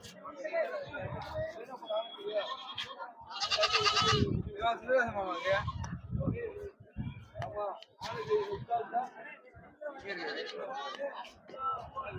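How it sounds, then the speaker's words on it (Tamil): Many goats bleat loudly and repeatedly at a busy Friday goat market in Ettayapuram, Thoothukudi district, their cries overlapping with constant crowd chatter and people talking nearby. "இது பூரா வெள்ளாட்டு தான் எல்லாமே வெள்ளாடு"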